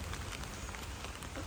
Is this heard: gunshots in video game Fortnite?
no